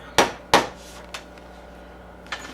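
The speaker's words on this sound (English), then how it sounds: "we're going to take this tack and we're going to hammer it down this way" Upholstery tacks, French nails, are hammered into a furniture frame: two sharp, close strikes in quick succession, then a lighter tap and another blow after a pause, in an otherwise quiet room.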